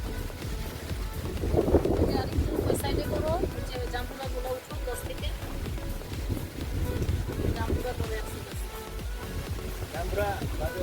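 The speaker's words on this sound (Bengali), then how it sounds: "বাতাসের শব্দটা ভিডিও করছি।" Wind roars and buffets the microphone in a steady rush beside a village pond at noon while people talk underneath.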